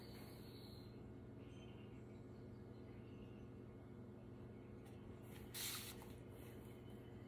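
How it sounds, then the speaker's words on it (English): Quick hissing bursts of a spray bottle misting water onto a painted surface, near and brief, over a quiet steady background hum. "spray a little water on here."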